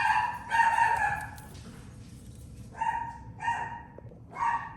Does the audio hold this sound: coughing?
no